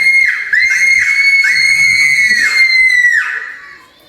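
A group of children scream together in loud, shrill, sustained shrieks that ride over one another, then fade away as they run off.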